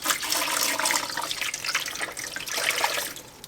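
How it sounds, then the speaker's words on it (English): Water from a kitchen sink spray hose runs steadily to fill a jar of corn for mushroom substrate, a close, continuous rushing hiss lasting a few seconds before easing slightly at the end. "you either use a cup or you use your sink with the spray hose"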